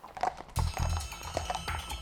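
Racehorses exercised by trainee jockeys in the racing town of Middleham clip-clop steadily on hard ground, the hoof beats loud and close over outdoor background noise.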